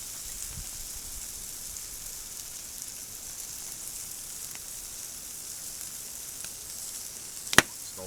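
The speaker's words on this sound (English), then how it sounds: "So we're just going to brown it and get some of this barbecue sauce in it." Pre-boiled meat browns in a pan with barbecue sauce, giving off a steady, even sizzle and crackle that lasts throughout. One sharp click or clack stands out near the end. No one speaks.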